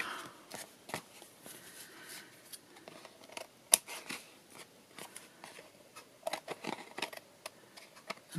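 Scissors snip through rusty tissue paper stained with walnut ink and yellow infusions, giving soft, scattered papery cuts and rustles with one sharp louder snip midway, close and quiet.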